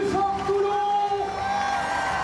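A crowd of about 700 excited supporters at a French regional campaign rally in Provence-Alpes-Côte-d'Azur whoops and cheers loudly and close by, with voices rising over one another in a short burst.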